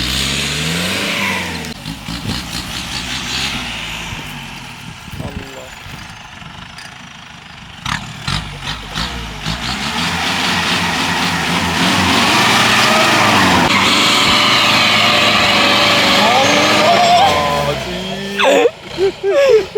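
A Mahindra Bolero 4x4 with an upgraded injection pump and nozzles revs and accelerates on a test drive, the engine note rising and falling loudly over road and tyre noise, with a voice talking at times.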